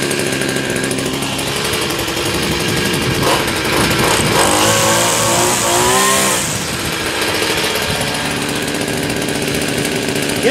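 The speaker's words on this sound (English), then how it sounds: "Yes, it revs up." Badger WB26BCI 26cc two-stroke weed whacker revving near the microphone, a buzzing idle rising into one sharp high-pitched rev that holds for about two seconds before dropping back to a steady idle, with no talk.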